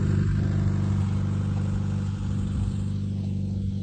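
A ZAZ Tavria car pulls away outdoors at a garden plot, its engine a steady, fairly loud mid-range drone with a low hum that carries without pause across the whole stretch.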